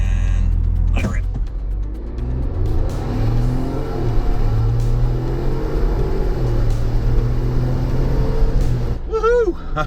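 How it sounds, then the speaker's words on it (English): A 2021 Ford Bronco launching in a 0 to 60 test, its engine revving hard and steadily climbing in a loud, close drone, with people talking over it. "what do you say we do a quick 0 to 60 test here and see what our draggy says?"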